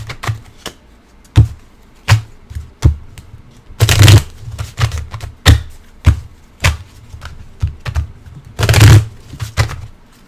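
Tarot deck being shuffled by hand, a series of crisp riffling bursts and soft slaps at irregular intervals, loud and close with no talking.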